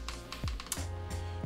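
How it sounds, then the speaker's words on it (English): Short bursts of clacky keystrokes on a 40% mechanical keyboard fitted with Bigwig switches, close and fairly quiet, a few irregular presses with brief pauses between. "I like the way that sounds. These bigwig switches feel very good from the factory"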